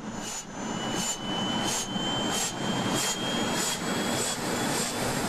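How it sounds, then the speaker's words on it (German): Police helicopter turbines spinning up, a loud steady whine with a rising high tone and a rhythmic whooshing pulse from the turning rotor, continuous and close. "startet die Turbinen"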